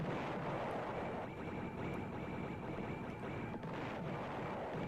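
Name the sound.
explosion sounds in Amiga video game Sidewinder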